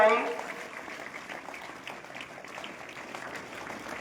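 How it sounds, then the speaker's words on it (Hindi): Applause for students at a school mehndi competition, starting louder and settling into steady clapping with a voice speaking over it. "मेहंदी प्रतियोगिता में इन तीनों विद्यार्थियों के लिए जोरदार क्लैपिंग।"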